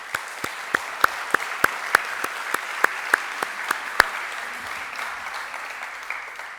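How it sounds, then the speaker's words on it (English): A small audience at a memorial event applauds: a dozen or so distinct, evenly spaced claps ring out loudly, then settle into softer scattered clapping. "So a round of applause, please, for"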